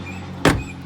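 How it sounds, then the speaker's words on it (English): The rear door of a BMW X5 with a faulty lock actuator is opened: one short, close mechanical clunk-and-swish partway through, over a quiet background with no talk. "and then I'm going to open the door"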